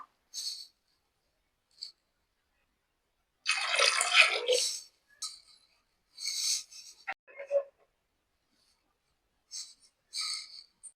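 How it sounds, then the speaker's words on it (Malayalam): Water poured into a pressure cooker of cowpeas seasoned with chili powder and turmeric gives a short splashing pour, then scattered quiet drips and small clinks with gaps of silence and no talking. "ആവശ്യത്തിന് വെള്ളം കൂടെ ചേർത്തിട്ട് ഇതൊന്ന് വേവിച്ചെടുക്കാം"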